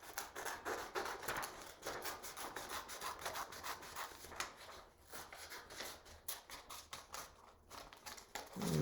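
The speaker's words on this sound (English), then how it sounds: "So I'm cutting this out." Scissors snip through paper to cut out a rectangle at a home craft table: a close, steady series of quick crisp cuts and rustles with no talking.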